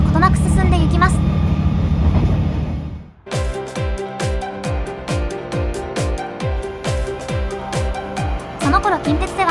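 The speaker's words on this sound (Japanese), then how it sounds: "小さく短いディーゼルカー同士の行き違いです。" Small, short diesel railcars on the JR Kansai Line pass each other on a quiet mountain section, a loud close rumble giving way to a rapid, regular clatter of wheels over rail joints.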